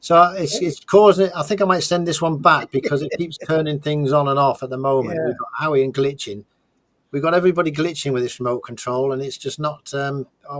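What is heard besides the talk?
None of the usual background noises is heard.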